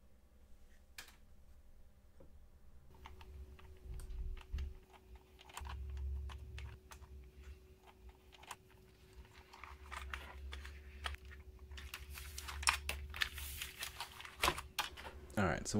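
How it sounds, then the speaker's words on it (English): Scattered clicks and taps of keys on a Commodore Amiga 500 keyboard, irregular and fairly close, over a steady low hum with some rustling and handling noise. "Now we get to do a keyboard."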